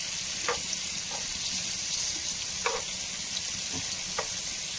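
Pieces of firm fish fry in a pan with a steady, close hiss of hot oil, punctuated by a few small pops and spatters.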